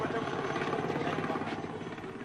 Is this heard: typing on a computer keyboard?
no